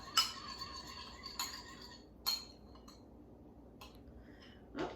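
A whisk or fork clinks against a bowl while salt and pepper are mixed into a fresh lemon vinaigrette, a few light, scattered taps and scrapes close by in a quiet kitchen.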